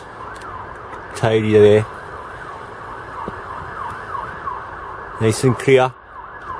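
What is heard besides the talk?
emergency vehicle siren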